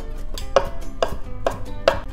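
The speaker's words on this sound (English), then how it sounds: "We're just gonna rough chop that." A knife rough-chops fresh cilantro on a cutting board, four firm, evenly spaced thuds close up with nothing else over them.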